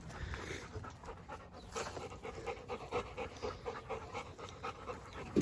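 A dog pants rapidly and steadily after jumping, its quick, breathy huffs close and fairly loud against faint background noise, with a slightly louder burst at the very end.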